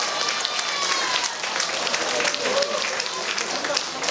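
Crowd applause at a Korean island festival, honoring provincial and county council members, a dense, steady patter of many hands filling the space, with voices mixed faintly into the clapping.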